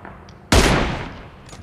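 A single loud gunshot cracks in PUBG Mobile zombie mode, a sharp close blast that decays over about a second, with faint background game noise around it.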